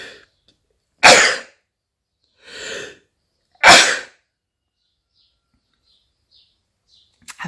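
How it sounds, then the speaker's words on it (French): Two sharp, loud sneezes burst out a few seconds apart, with a softer breathy sound between them and quiet in the gaps. "Attention, je vais éternuer."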